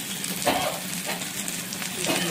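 Chicken fries in a pan as cumin and coriander powder go in for a Nepali-style karchi marchi, a steady close sizzle broken by a few short scraping stirs.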